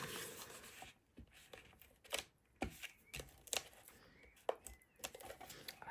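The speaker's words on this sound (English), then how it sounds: "So I'm going to put tape on my little tabs." Tape being pulled and pressed onto the tabs of a small paper pumpkin treat box, heard as quiet, close crinkles, rubs and short ripping snaps in an uneven rhythm.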